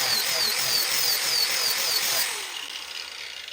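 An angle grinder fitted with a felt finishing disc runs against metal, giving a steady high whine with rhythmic sweeping chirps as it is worked back and forth, then dropping slightly in level.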